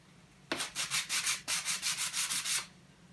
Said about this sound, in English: we just need a little bit of sanding